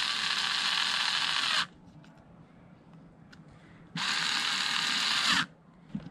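On a Wagon R throttle body sensor, a power tool tightens a screw in two short whirring bursts separated by a quiet pause, close and fairly loud, with faint mechanical clicks in between.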